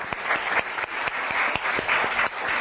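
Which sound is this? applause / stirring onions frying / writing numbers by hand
applause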